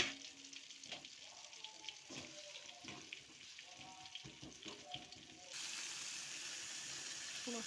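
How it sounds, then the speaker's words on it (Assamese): Water added to cumin and spices frying in a pan for a fish curry. Quiet kitchen sounds and a voice give way to a sudden, sustained loud hiss of sizzling partway through. "অলপমান পানী দি দিম এতিয়া"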